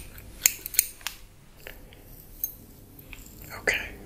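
Scissors snip hair during a close ASMR haircut, a few crisp, sharp cuts spaced irregularly over soft whispered talk and faint handling noise.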